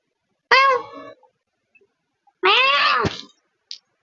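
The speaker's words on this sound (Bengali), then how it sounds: "আমার একটা বিড়াল ম্যাও" A pet cat meows twice, close and clear, a short call followed after a pause by a longer drawn-out one, with a faint chirp near the end.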